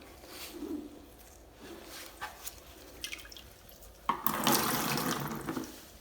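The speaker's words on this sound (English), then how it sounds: "grab a sponge and remove the remaining water in the tank and the toilet" Quiet splashing and dripping as a sponge removes the remaining water from a toilet tank and bowl, with small squelches, ending in a louder burst of running water, close by.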